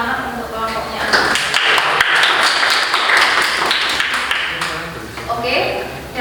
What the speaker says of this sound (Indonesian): Beri tepuk tangan untuk kelompoknya Azra